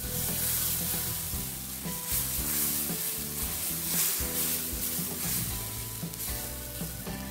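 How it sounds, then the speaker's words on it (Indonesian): Balado chili paste of curly red chilies being sautéed in a pan, a loud continuous sizzle and frying crackle with stirring scrapes throughout, close up and without talk. "Kita tumis dulu ya sampai benar-benar matang."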